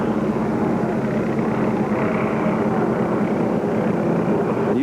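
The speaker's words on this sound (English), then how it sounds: "The helicopter is still hovering right above it." Constant drone of a helicopter hovering overhead at a parade shooting scene, loud and steady, a rumbling engine and rotor wash filling the whole stretch without break.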